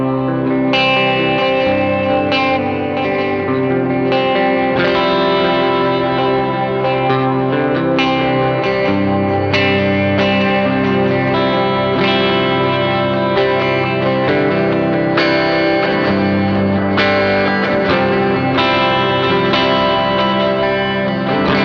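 An electric guitar is played through a Suhr Riot Reloaded distortion pedal, producing loud, saturated chords and riffs with sustained, gritty tone and rhythmic changes throughout, with no speech.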